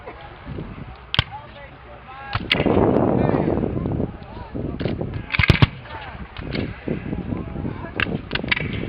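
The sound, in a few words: rifled muskets firing at a Gettysburg re-enactment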